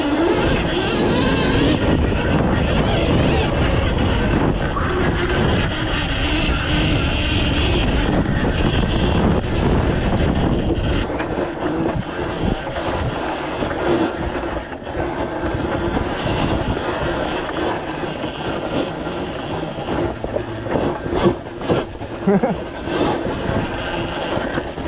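A 14,000-watt electric mini bike accelerates hard with its rear tire spinning, a heavy close rumble and whine that eases into a quieter, uneven roll partway through.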